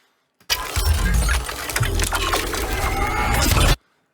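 Glass cracks and shatters in one loud, sustained crash lasting about three seconds, a dense spray of breaking shards that stops abruptly.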